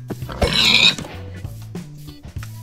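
A pig in the Minecraft video game gives a short grunting oink that stands out early, followed by quieter low game sounds and faint clicks, with no talking over it.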